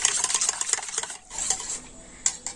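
A spoon scrapes and clinks rhythmically against a bowl while oil is stirred into semolina cake batter, quick repeated strokes, close and fairly loud, with a brief pause midway and no talk.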